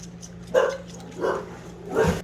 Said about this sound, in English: so the dogs bark, but that's real life